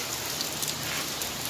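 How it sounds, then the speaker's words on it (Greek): Rain on a rainy day pattering steadily on surfaces as a dense hiss with scattered drop ticks, close and constant, with no talk. "Βρέχει, raining day"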